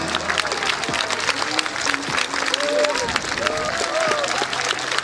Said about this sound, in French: Alors on les applaudit bien fort, les premiers en train de se poser.